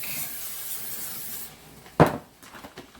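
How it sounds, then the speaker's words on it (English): A short hiss of cooking spray from an aerosol can onto a baking pan, close and quiet, followed by a sharp knock and faint rustling. "So some cooking spray."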